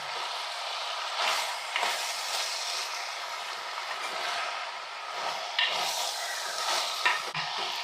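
Marinated chicken being stirred in a cooking pot with roasted coconut-chilli masala, giving a continuous scraping, sizzling texture with irregular louder scrapes and clinks, close and moderately loud.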